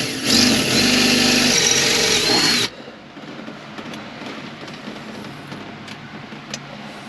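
A power drill bores centering holes in a C5 Corvette part, a loud steady whine for about two and a half seconds that then stops abruptly, leaving quiet handling noise.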